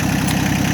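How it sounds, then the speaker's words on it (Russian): A Kubota L1802 four-wheel-drive mini tractor idles on its three-cylinder diesel engine, a loud, close, steady low chugging with a fast regular pulse. "Трактор агрегатирован трехцилиндровым дизельным двигателем."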